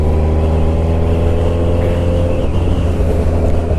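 A stretched 2007 Suzuki Hayabusa motorcycle engine runs loud and close, a steady thick rumble with strong low harmonics and slight revving fluctuations throughout, no voices.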